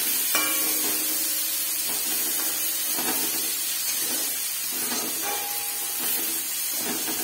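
Peas being stirred in a frying pan give a steady sizzle and hiss, with scraping stirring strokes coming every second or so and faint tonal clinks between them.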